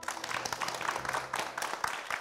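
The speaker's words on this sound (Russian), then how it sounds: "Аплодисменты." A studio audience applauds at a talk show with a psychologist-sexologist, brisk clapping that comes in dense bursts and stays fairly close.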